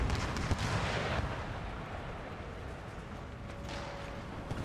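Cannon fire in Empire: Total War rumbles as a dense, continuous battlefield roar of booms and low thuds, fairly loud and steady throughout with no clear pauses.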